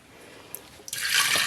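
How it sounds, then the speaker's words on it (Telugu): Water is tipped out of a vessel of washed lentils in a short splash and pour that starts near the end, after a few faint clinks. "శుభ్రంగా కడిగి నీళ్లు వంపేసుకుందాం."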